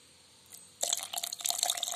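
Milk poured into a blender for an Oreo banana milkshake: a short quiet, then a steady, close, splashing pour of liquid that runs to the end.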